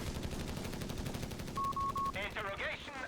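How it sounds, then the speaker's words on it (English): Heavy machine gun fire in the video game Company of Heroes 3, rapid evenly spaced bursts rattling continuously throughout, with a short tonal beep and brief voice-like game sounds layered near the end. "Heavy machine gun from our US player holding down the center here."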